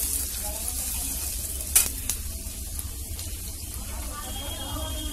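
Onion and green chili frying in hot oil, with a constant hiss and crackle and one sharp clatter near the middle as ingredients drop in.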